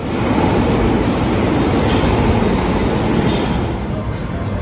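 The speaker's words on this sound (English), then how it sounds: "So we're just leaving Russell Square on the train to Covent Garden" A steady, loud rumble and roar of a London Underground train running through a tunnel from Russell Square towards Covent Garden, continuous rushing noise with a faint high whine above it.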